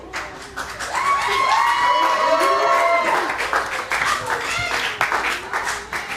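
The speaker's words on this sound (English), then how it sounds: "I hope you're applauding for yourselves" Audience at an art benefit event applauds and cheers loudly, with a voice or whistling tones rising over the clapping midway before it thins into scattered claps.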